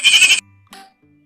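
Cartoon goats bleat once in a loud, bright burst, then a short, fainter second bleat follows after a pause, with no talk over them.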